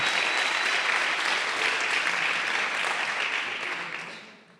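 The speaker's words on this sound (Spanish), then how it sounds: "dale un aplauso al que vive" A church congregation applauds in praise of the Lord during a sermon, a full, even wash of clapping that holds steady and then fades away at the end.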